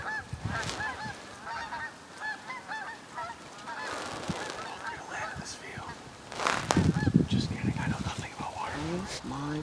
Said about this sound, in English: John, there's Canada geese